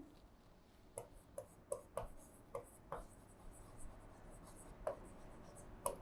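Chalk or marker tapping and scratching on a board in irregular short strokes, fairly close but faint, against a quiet room background.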